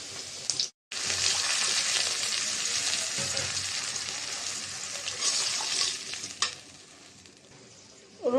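Water poured into a pan of lightly fried onions and green chilies sets off a loud, hissing sizzle right after a brief silence, holding steady before easing off toward the end.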